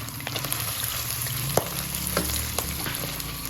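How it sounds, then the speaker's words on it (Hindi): Garlic and ginger fry in hot oil as they are stirred, giving a steady close sizzle with scattered pops and the scrape of a spoon moving through the pan. "जब इसमें लहसुन और अदरक डाल दें। इसको अच्छी तरह मिक्स कर लें।"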